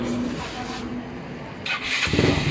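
An engine with an all-stock 54 setup, 6.0 cam and fresh overhaul is started: a close, steady mechanical rumble that swells into a louder, rougher surge near the end.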